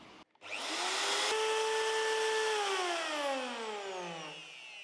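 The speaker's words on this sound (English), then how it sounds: "we're gonna use a router machine" A router machine shapes the edges of a wooden kitchen countertop for a tiny camper build, spinning up into a loud, steady high whine that holds for several seconds and then winds down slightly near the end.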